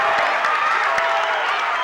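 A high school boys' basketball crowd roars in a sustained, dense swell of cheering and clapping after a player is blocked on a dunk attempt, steady and loud throughout with no clear voice on top.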